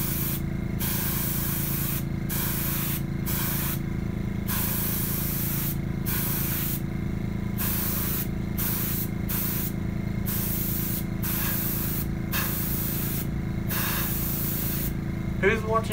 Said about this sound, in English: After I spray this, it's gonna be white